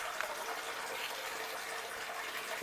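Water washes sand across a silicone miller table mat used for recovering fine gold, a steady rushing gush that runs evenly and fairly close throughout.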